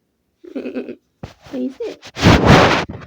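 A goat in labour bleats in a short wavering burst near the microphone, then someone speaks briefly, followed by loud broadband rustling or handling noise.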